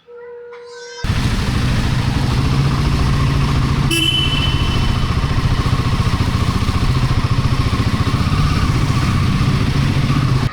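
A Hero Splendor motorcycle being ridden back to the garage after servicing, its engine droning loud and steady and close up with a fast pulsing rumble, starting abruptly after a brief quieter tonal moment, with no talk over it.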